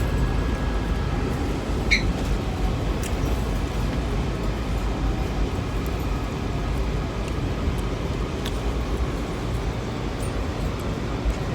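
A steady low rumble and rattle of a Washington Metro Green Line train rolling along the rails, continuous and fairly close, with faint squeals now and then.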